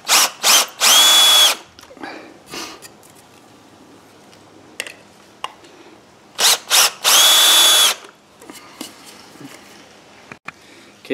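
A power drill drives 2.5-inch screws into a wooden farmhouse bench in two loud, whining bursts several seconds apart, each followed by quieter knocks and handling of the wood.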